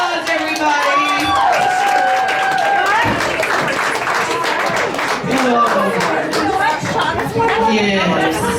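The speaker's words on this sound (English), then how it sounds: "Applause, everybody." Applause and cheering from a burlesque show audience, a dense wash of claps and crowd noise running throughout with voices talking and whooping over it.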